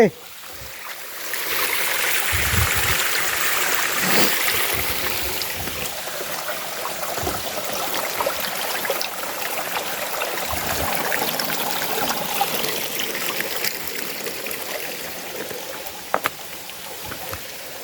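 At the Sap Sa Kaeo waterfall near Ban Khao Phluang, running with little water early in the rainy season, a stream trickles and splashes steadily nearby, with a few scattered knocks and no speech.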